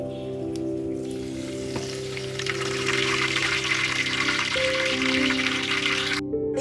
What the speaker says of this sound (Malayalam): എണ്ണ ഇവിടെ ചൂടായിട്ടുണ്ട്. ഇനി ഇതിലേക്ക് കുറച്ച് കറിവേപ്പില ഇട്ട് കൊടുക്കാം.